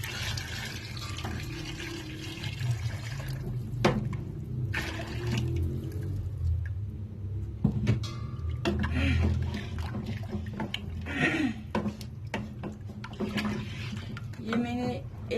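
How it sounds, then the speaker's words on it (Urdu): Water from a jug poured into a pot of chicken yakhni with potatoes, a steady splashing pour with clanks of the vessel, heard under a voice talking. "یہ میں نے 1 جگ پانی اس میں ڈال دی ہے۔"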